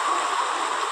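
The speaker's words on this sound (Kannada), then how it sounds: "ನೋಡಿದ್ರೆ ಕಾಂಕ್ರೀಟ್ ದಾರಿ ಇಡೀ ಹೊಳೆ ಅಂತ ಆಗಿದೆ" Floodwater from heavy monsoon rain rushing like a river over a concrete road in Puttur, a steady loud roaring wash of water with no pauses and no voices.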